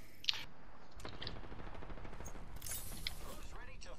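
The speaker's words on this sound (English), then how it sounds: "There's two teams shooting at each other." Gunfire from two teams trading shots in the battle royale game Apex Legends, a rapid stream of distant automatic bursts and single cracks running throughout, with voices talking over the shooting.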